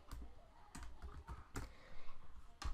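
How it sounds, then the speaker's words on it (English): Quick bursts of keystrokes on a computer keyboard, close and fairly quiet, tapping out a short search in uneven clusters with brief pauses between them. "you just type into the search bar"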